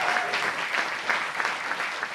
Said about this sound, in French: Est-ce qu'on applaudirait pas Zu?